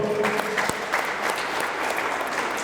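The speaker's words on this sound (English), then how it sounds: "Please clap for him." Audience at a Cameroon flag-raising ceremony applauding a volunteer, a loud, continuous burst of many hands clapping throughout, with a faint voice briefly at the start.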